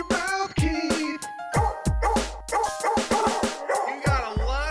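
A man imitates big dog barks with his mouth, a quick string of loud, close, gruff woofs and yips in an uneven rhythm, some with whiny tails.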